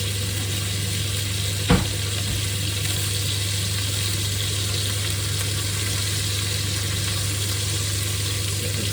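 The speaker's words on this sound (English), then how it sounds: "Excuse all the fans that are on, but I've got the cooker hood on and everything." A kitchen cooker hood fan drones steadily while a steak seasoned with Angus & Oink Montreal rub fries, a constant close whoosh with a faint sizzle underneath and a single sharp knock partway through.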